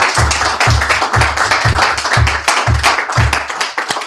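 An audience at a company training session gives a slow, deliberate clap, about eight loud, evenly spaced claps over four seconds with no talk.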